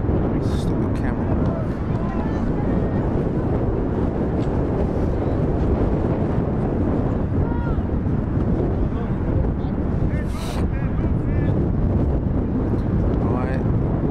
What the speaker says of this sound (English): Winds are gusting at about 25 miles an hour